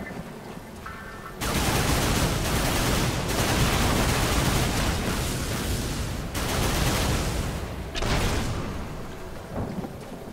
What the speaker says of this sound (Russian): Выстрел под ноги, это мы отталкиваем от себя